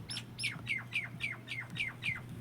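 A crow gives a run of about eight short, repeated squawking calls in steady rhythm, moderately near, with a low hum underneath.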